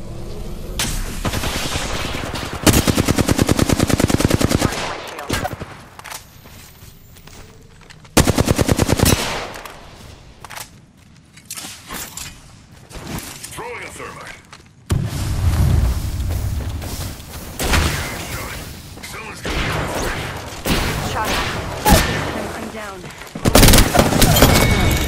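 Flatline and Prowler automatic weapons fire in Apex Legends Duos, loud rapid bursts separated by short quieter gaps, with in-game character voices speaking between the volleys.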